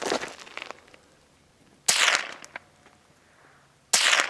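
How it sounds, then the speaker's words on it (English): Two sharp, loud gunshots at an outdoor shooting range, spaced about two seconds apart, each with a brief echoing decay, following a quieter burst of earlier shots. "Two shots."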